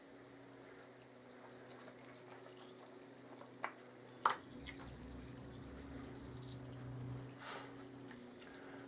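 Engine oil draining from a Honda ST1100A motorcycle during an oil and filter change, a steady faint trickle with a few soft drips and splashes, and no talking.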